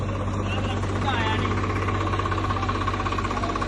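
A tractor engine runs steadily at a village fair outing, a loud, continuous low throb with a constant rumbling idle and faint voices in the background.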